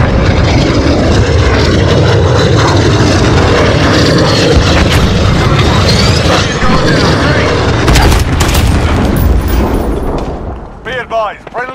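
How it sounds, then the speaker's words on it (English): A killstreak helicopter arrives in a multiplayer shooter game, a loud, dense rotor-and-engine roar with booming explosions, fading near the end as a voice speaks. "Helicopter."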